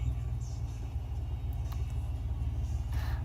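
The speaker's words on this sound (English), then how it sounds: "Now my muffler's shot." A Mitsubishi Endeavor idles with a blown muffler, giving a loud, steady low rumble with a throbbing exhaust pulse close to the tailpipe, and faint voices sit underneath.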